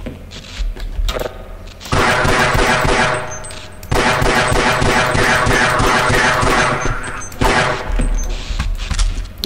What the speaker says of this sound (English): Barney, shoot them, Barney!